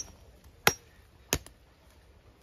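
A cutlass strikes wood on rural land in three sharp, isolated chops spaced about two thirds of a second apart, each a crisp close impact against a quiet outdoor background.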